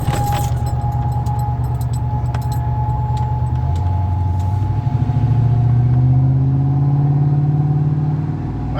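Overloaded RV rolling along at low speed, with a steady mid-pitched engine drone, road rumble and light rattling, and the engine note rising slightly partway through.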